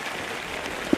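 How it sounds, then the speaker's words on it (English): Hard, heavy rain pours steadily onto a high school football field at night, a dense even hiss with no voices. "the rain falling fiercely. Hard, heavy raindrops."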